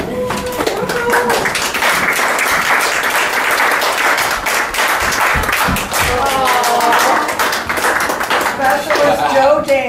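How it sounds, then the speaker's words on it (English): A crowd at a military homecoming surprise claps loudly and unevenly, sharp claps ringing out over lively cheering and talking voices. "Maybe he needs a new clap."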